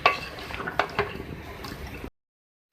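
Beef and ridge gourd curry with yogurt is stirred in a pot, with a spoon scraping and knocking against the metal among wet, squelching sounds for about two seconds before silence.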